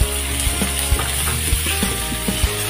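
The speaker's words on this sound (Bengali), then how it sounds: "আলু ফুলকপিগুলো খুব ভালো করে ভেজে নিচ্ছি" Potatoes and cauliflower frying in a pan for vegetable khichuri, a steady loud sizzle with occasional clinks and scrapes of stirring, close and with no voices.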